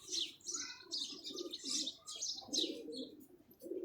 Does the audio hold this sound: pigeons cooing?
yes